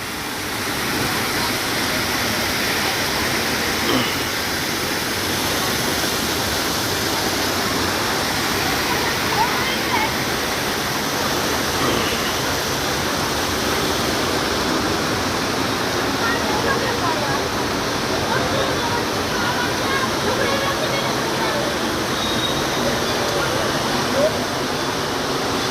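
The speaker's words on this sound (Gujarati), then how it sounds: "જોઈ લો, આ તમામ પાણી બહાર વહે છે." Water pouring out in a steady, dense rush at a holy site near Girnar, a continuous loud roar like a waterfall that holds unchanged throughout.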